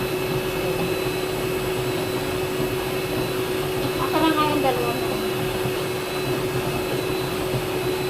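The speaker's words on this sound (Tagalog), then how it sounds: "Hindi pala vacuum. Steam pala." A handheld steamer runs on pillows with a steady hissing, whooshing drone that fills the whole clip, while a brief voice cuts in near the middle.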